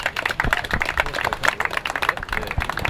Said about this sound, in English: So let's round of applause for Bruce.